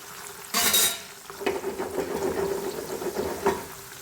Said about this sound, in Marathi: आता हे चांगले असे क्रिस्पी तळायचे